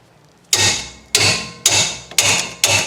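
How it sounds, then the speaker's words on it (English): Five loud, close metallic hammer blows strike a wrench to loosen a bolt on a 2018 Nissan Altima's rear brakes, at a steady pace about half a second apart, each with a short ringing decay. "Try to break this loose with a wrench if I can, and a hammer."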